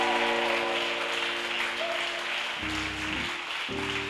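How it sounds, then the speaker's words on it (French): A church congregation at a prayer marathon claps and cheers in acclamation to Jesus, a steady dense wash of applause over sustained musical tones throughout. "Donne une puissante offrande d'acclamation à Jésus"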